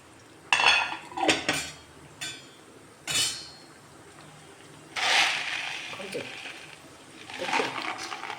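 Two handfuls of popcorn kernels are stirred in a pressure cooker, with loud intermittent metallic scraping and clinking of a spoon against the pot in separate bursts, and someone talking in between.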